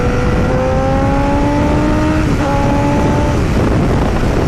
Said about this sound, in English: the Two Brothers exhaust Sub D Edition is noticeably louder than the Yoshi R77, and it sounds better